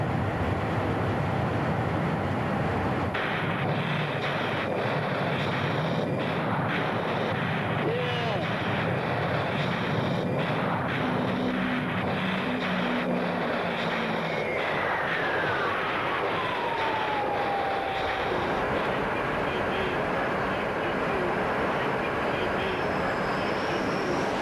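An A-6 Intruder attack aircraft roars past in a steady, loud jet drone with a falling whine partway through, heard under a narrating voice.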